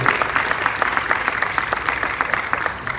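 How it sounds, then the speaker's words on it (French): Applause from an audience at a Disney Inside Ears program announcement, steady crowd clapping with some individual claps standing out, moderately loud throughout. "on peut l'applaudir."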